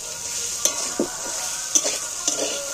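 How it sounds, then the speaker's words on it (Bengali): Sliced okra sizzles in hot oil with a steady, fairly quiet hiss, while a spatula stirs it in four short scrapes spaced unevenly across a few seconds. No one speaks. "এইবার আমি আবারও বেশ খানিকটা ভাজবো।"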